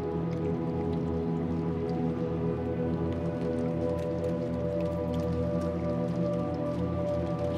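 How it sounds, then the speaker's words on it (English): Rain falling and water dripping from a leaking ceiling inside a building in the game Little Nightmares II, a steady soft patter over a low droning hum, with no one talking. "I guess the ceiling's leaking, so I guess it's probably raining outside still."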